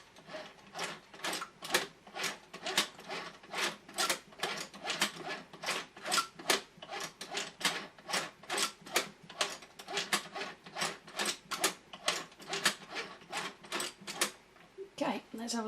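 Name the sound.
toy Singer sewing machine being turned by hand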